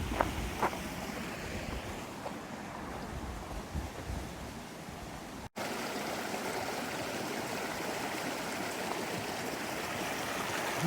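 Steady rushing of a stream at a river crossing on a mountain hiking trail near Lake Tahoe, a broad continuous wash of flowing water heard close and alone, with a brief break midway.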